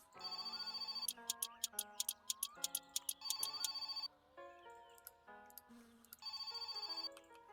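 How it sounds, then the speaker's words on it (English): A ringing telephone in the driving-simulation game My Summer Car, with bursts of bright electronic trills that repeat in a steady rhythm, loud and close, along with other game tones in between. "There's that phone ringing again."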